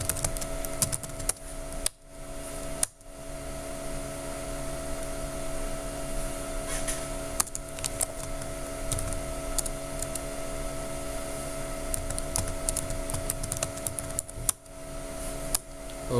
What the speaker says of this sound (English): Let me now just give the command and type something and also do something.